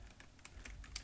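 Rapid keystrokes on a computer keyboard during a live-streaming setup, a short irregular burst of clicks close to the mic, fairly quiet with no talk.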